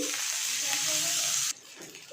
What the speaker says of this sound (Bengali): বাকিগুলো একইভাবে ভেজে নিচ্ছি